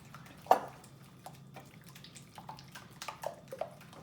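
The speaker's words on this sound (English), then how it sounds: "now I'm going to take my whisk, and I'm going to whisk that" Wet cake batter ingredients for a keto chocolate cake are whisked in a bowl, giving faint, irregular liquid taps and soft splashes close by, with no talking.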